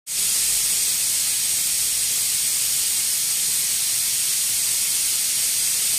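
Pressure cooker of khichdi venting steam, a loud, unbroken hiss that begins abruptly and holds steady throughout, with no voices.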